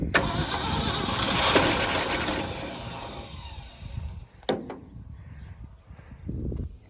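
A 1972 Ford F-250 field truck being revived cranks and catches after starting fluid is sprayed in, roaring loudly for several seconds before cutting out, then a sharp knock and a brief second rumble.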